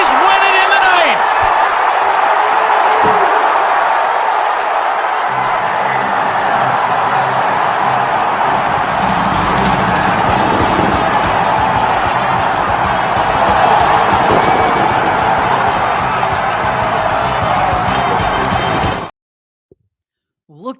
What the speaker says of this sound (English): Look at the pandemonium going on in that crowd during a walk-off in the NLCS